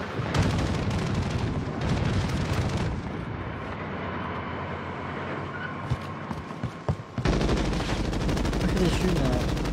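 Heavy gunfire rattles in a shooter video game, dense rapid bursts and booms that fill the opening seconds, drop to a steadier rumble in the middle, then return loudly near the end.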